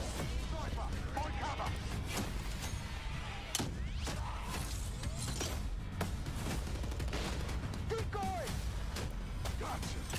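Rapid gunfire bursts and thuds from Call of Duty Modern Warfare 2 multiplayer, dense and continuous throughout, mixed with game effects while someone talks over it.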